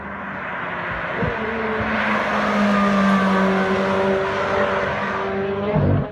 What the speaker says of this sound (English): some sound clips of the car actually driving around some roads in California